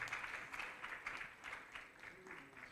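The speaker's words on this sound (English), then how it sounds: "Please, let's clap for them as they are going back to their seats." Scattered applause from a conference audience on disability inclusion in Nigeria as panelists return to their seats, soft and uneven with a few distinct claps standing out.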